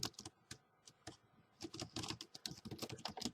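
Fingers clatter across a computer keyboard in quick irregular bursts of close, crisp keystrokes, pausing briefly before a faster flurry of typing, with no voices.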